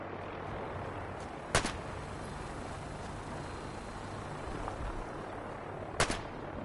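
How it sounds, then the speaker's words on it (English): Gunfire in a Fallout battle against the Brotherhood of Steel sounds as two sharp, distant shots several seconds apart over a steady low rumble. "I'm shooting at the Brotherhood of Steel, fucking battleship,"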